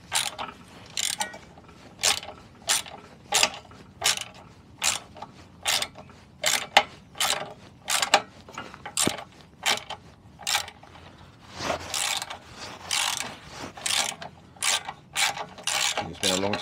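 A ratchet wrench loosens bolts on a tower light bracket, producing repeated rhythmic bursts of sharp clicking pawl ratchets, close and loud, with brief pauses between strokes and no talking.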